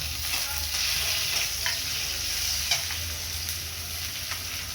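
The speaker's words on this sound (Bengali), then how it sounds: "পেঁয়াজটা ভেজে নিয়েছি, টমেটোটা দিয়ে দেবো।" Tomato is added to fried onions in a pan for a catla fish curry, giving a steady moderate sizzle with faint stirring scrapes and a few soft clicks, no speech.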